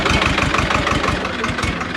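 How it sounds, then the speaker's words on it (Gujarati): A tractor engine idles up close, loud and steady, with a rhythmic low chugging pulse throughout and no voices. "તો ગાઈઝ જો ટ્રેક્ટર આવ્યું"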